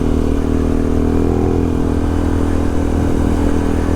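A trail motorcycle accelerates in third gear on a dirt trail, its engine drone loud, close and steady throughout with a constant rough roar and light clatter, no voices.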